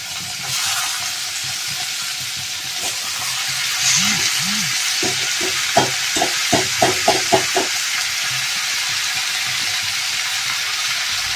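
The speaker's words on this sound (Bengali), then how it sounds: "এই সাদা জিরে তেজপাতাটাকে একটুখানি ভালো করে ভেজে নেব" Bay leaf and white cumin frying in oil in a pan, with a steady close sizzle and a run of short scraping stirs in the middle, and no talking.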